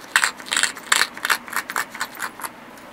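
A slab of obsidian is ground along its edge with a stone in short, bursty rasping strokes, close and fairly loud, with brief pauses between passes.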